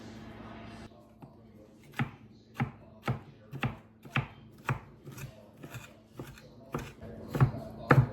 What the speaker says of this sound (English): Try to chop these as finely as I can